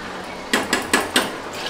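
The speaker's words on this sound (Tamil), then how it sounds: "இனி மூடி வச்சா போதும்." A metal lid set onto a pressure cooker holding biryani, heard as four sharp clanks in quick succession, close by and fairly loud against a quiet background.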